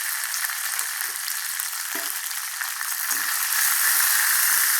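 Small turkey berries sizzle and crackle in hot oil with sautéed garlic in a pan, a busy continuous frying hiss with occasional stirring sounds, close and fairly loud.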